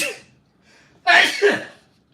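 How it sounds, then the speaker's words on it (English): A person sneezes once: a short breathy intake, then a sudden loud, sharp two-part burst that fades quickly, close to the microphone. "I was gonna say I was gonna sneeze"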